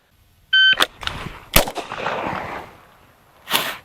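MK23 SOCOM pistol fired on a range: a shot timer beep followed by sharp, loud reports spaced a couple of seconds apart, with reverberant tails trailing off between shots.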